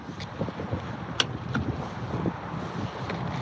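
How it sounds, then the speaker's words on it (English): A sailboat's engine runs on San Francisco Bay and will not shut off because of a choke problem, giving a low, continuous rumble mixed with wind noise and occasional knocks, heard close. "Why isn't the engine turning off?"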